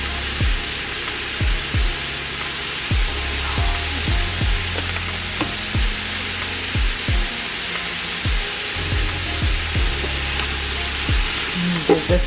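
Enchilada pasta with cumin and red pepper flakes sizzles loudly in a pan, a continuous frying hiss punctuated by repeated scraping knocks of a utensil stirring against the pan.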